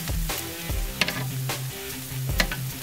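Korean kalbi short ribs sizzling over open coals on a Big Green Egg grill, a steady close frying hiss with occasional tapping and clinks of tongs, no talking.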